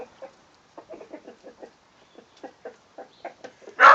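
Hens cluck and peck while eating crushed eggshells, a series of short soft clucks and pecking taps at an irregular quick rhythm, close and quiet, ending with a louder burst.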